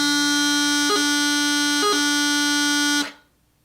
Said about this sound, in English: The next skill is to practice separating C's with high G grace notes.